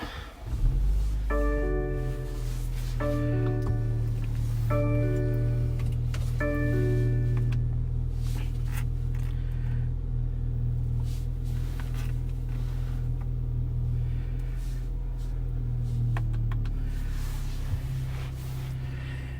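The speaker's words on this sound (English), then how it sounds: "so let's start up the vehicle" A 2021 BMW X3 (G01) starts from inside the cabin: a series of chime tones, then a steady low engine idle drones loudly and continuously throughout.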